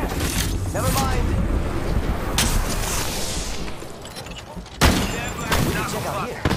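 Gunfire in the Apex Legends video game crackles and booms in loud bursts amid battle noise, with game character voices speaking over the shooting.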